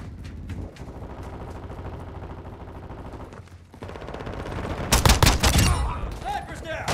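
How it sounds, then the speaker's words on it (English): Bursts of video game gunfire, a dense rattling volley erupting loudly after a stretch of quieter combat ambience and background music. "Taking fire!"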